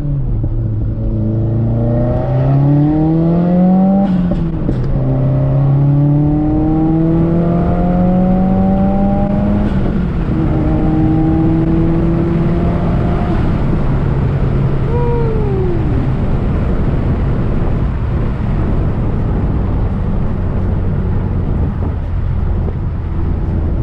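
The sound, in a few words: tuned 400+whp Subaru WRX turbo noises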